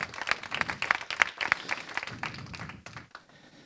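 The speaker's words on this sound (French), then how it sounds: "vous pouvez les applaudir" Applause at an AI and HR award ceremony, a modest burst of clapping from a smallish audience with a few distinct nearby claps, thinning out and fading over a few seconds.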